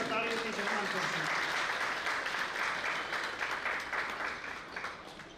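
Audience at a Gujarati award and honour ceremony breaks into sustained applause, a loud, full wash of many hands clapping that slowly thins toward the end, with a voice faintly audible beneath it.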